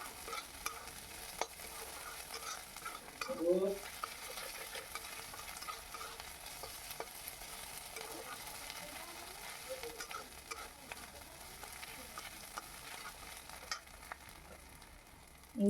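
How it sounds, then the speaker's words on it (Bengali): Ginger garlic paste fries and sizzles in a pan while being stirred, a quiet steady crackle with soft scraping strokes and a couple of brief utensil clinks. "দিয়ে আবার ভালো করে নেড়ে চেড়ে নিচ্ছি যাতে আদা রসুনের কাঁচা গন্ধটা চলে যায়"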